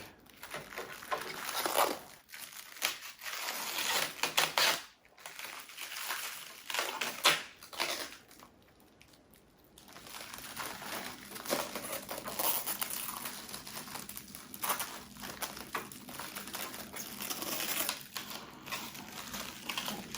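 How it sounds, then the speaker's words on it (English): Plastic wrap is carefully peeled off an AutoArt 1:18 scale Subaru BRZ model car, giving close, irregular crinkling and crackling bursts broken by brief pauses, with no talking. "I'm being a little bit careful as I unwrap this because of how it's wrapped around some of the more delicate parts of the exterior of the car."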